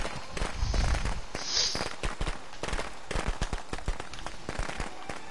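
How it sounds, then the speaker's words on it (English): A rapid string of sharp firecracker pops in the game Friday the 13th, crackling in irregular bursts, loud and close, with a deeper rumble early on. "we can all wait till these firecrackers end"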